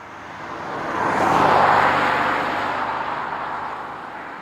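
A Mercedes-Benz CL65 AMG driven hard on wet back roads as the weather closes in, its sound swelling to a loud peak mid-pass and then slowly fading, with no one talking.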